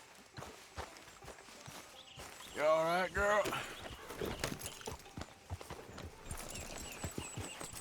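Hooves clip-clop at a walking pace as a horse is ridden in Red Dead Redemption 2, a steady rhythmic patter that picks up slightly, with a rider briefly speaking to the horse and a short whinny-like sound partway through.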